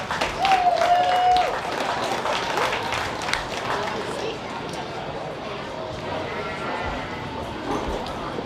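Audience at the Sheridan County Fair cheering and clapping for FFA kids, a dense steady roar of applause and voices that is loudest at the start and then settles into a sustained crowd din.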